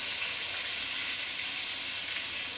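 Boiled potatoes fry in hot oil over a gas flame turned up high, giving a steady, even sizzle and hiss that continues without pause.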